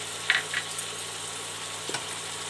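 Ground paste of rice, melon seed, poppy seed and cashew sizzling in a pan for a potol and prawn curry, a quiet steady fry with a few brief clinks and a soft knock, no talking.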